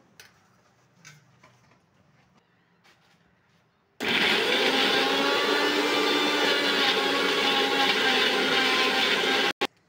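A mixer grinder blends raw green mango with green chili and water into a paste. After a few quiet handling clicks, it starts abruptly into a loud, steady, close whirring grind, then stops with a brief final burst.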